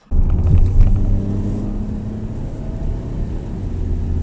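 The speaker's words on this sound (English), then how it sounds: "I'm driving the new Mitsubishi Xpander for a while now" Interior drone of a 2020 Mitsubishi Xpander on the move, a steady loud low engine and road rumble with a brief swell near the start, heard alone.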